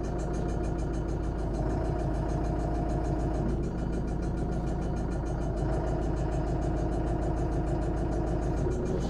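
Tractor engine running steadily and close while a Demus trailed grader is raised, lowered and turned, a continuous low mechanical drone with faint shifts as the grader moves.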